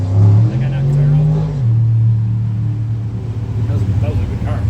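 Deep, loud engine rumble from a drag race car at a hot, greasy no-prep track, with a strong rev that eases into a steady idle-like drone as someone talks over it.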